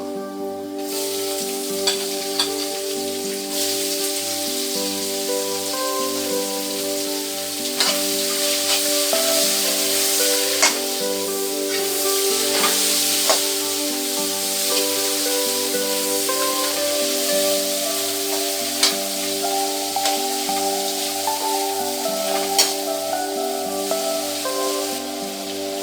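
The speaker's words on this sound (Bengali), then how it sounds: "এইবার এখানে আমি প্রয়োজন মতন একটু পেঁয়াজটা দিয়ে ভাজবো।" Onion frying in oil for a Bengali fish head muro ghonto, a steady close sizzle and hiss with occasional stirring clicks throughout, no speech.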